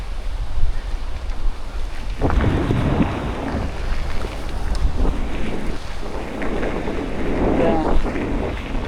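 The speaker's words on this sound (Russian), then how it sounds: "это было рядом с речкой Кюрбелях. Вон она. Бурлит, шумит." The Kyurbelyakh river rushes and gurgles beside a cycling route between Yakutsk and Magadan. A steady broadband roar of flowing water continues throughout, with surging bursts and some wind buffeting the microphone.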